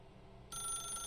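A telephone starts ringing partway through a scene in the video game The Stanley Parable, a bright, steady electronic ring held loud and close after a quiet stretch.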